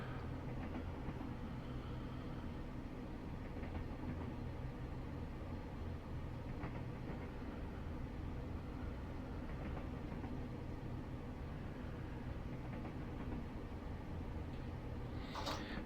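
Class 172 diesel multiple unit running from Gospel Oak to Barking in Train Simulator Classic, a steady, continuous rumble of engine and wheels on track heard from the cab, with no voices.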